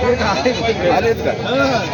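Goats bleating repeatedly at a busy livestock market in Maharashtra, several wavering calls overlapping amid crowd chatter and someone talking nearby.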